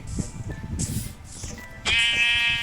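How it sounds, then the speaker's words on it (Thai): Two sheep bleat in the Minecraft Bedrock Edition video game, giving several short, close calls that end in a louder, sustained bleat, with no talking. "โอ้ยแกะเกิดแล้ว มันเกิดต่อหน้าผมเลย สองตัวด้วย"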